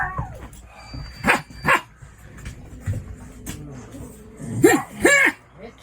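Dogs barking in short bursts, a few loud yelps and barks scattered through the stretch with background voices and household noise; a couple of louder, closer barks near the end.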